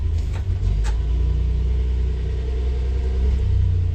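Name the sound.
1976 Datsun B210 engine running rough after carburetor install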